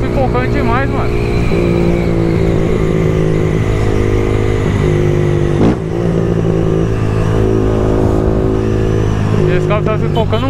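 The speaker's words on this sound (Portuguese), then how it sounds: "O carro tá pipocando muito." A Honda CB Twister 300F motorcycle runs loud and close on a night ride, its engine droning and revving with a brief sharp pop midway, while people talk over it throughout.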